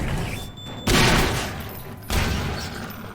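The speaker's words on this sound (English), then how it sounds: "I think there'd be one more explosion." Explosions in the video game Half-Life 2 Episode 1 come as two heavy booming blasts, the second about a second after the first, each with a long rumbling tail, loud and close.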